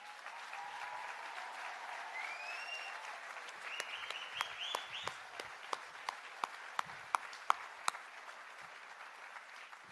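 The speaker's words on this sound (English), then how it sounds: "I just ask that the rest of us give them a loud round of applause." A round of applause for a processing team at the grand opening of a poultry processing plant, with steady crowd clapping that stays fairly soft and distant, a few sharper individual claps standing out, and brief cheers or voices early on.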